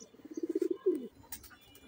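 Pigeons in a loft cooing close by, a run of quick throaty pulses swelling into a longer rolling coo, fairly soft with faint background noise.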